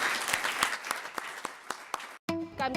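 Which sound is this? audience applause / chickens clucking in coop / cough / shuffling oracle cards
audience applause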